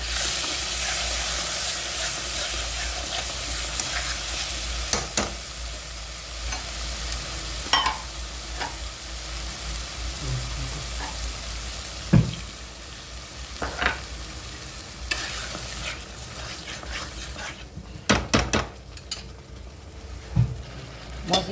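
Spice paste of garam masala, turmeric and chilli fries loudly in a pan for a chicken dish, a dense sizzle broken by repeated scraping stirs and clacks of a spoon, growing busier toward the end.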